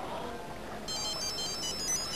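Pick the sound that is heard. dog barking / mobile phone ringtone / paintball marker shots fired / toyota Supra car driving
mobile phone ringtone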